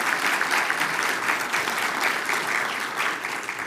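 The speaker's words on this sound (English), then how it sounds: "I would like to just give a quick round of applause for our award winners" Steady round of applause from an audience honoring award winners at an opening ceremony, dense continuous clapping at even loudness throughout with no talk over it.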